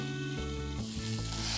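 Mint leaves and tamarind frying in a pan, a steady close sizzle with soft stirring scrapes, no voices.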